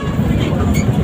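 Train at a station on a Cavite–Batangas route, a steady loud rumble of rail cars that fills the whole second, with a voice talking over it.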